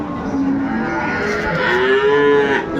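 A cow moos loudly and close by at a cattle market in Dinajpur where Sahiwal bull calves are sold, a long drawn-out bellow that wavers in pitch, with faint ambient noise around it.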